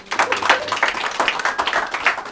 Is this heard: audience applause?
yes